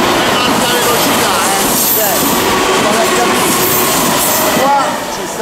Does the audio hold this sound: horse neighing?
no